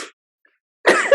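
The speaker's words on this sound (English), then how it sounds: "I feel like I'm going to sneeze." A single sharp sneeze bursts out near the mic after a short silence, loud and abrupt, trailing a brief breathy tail.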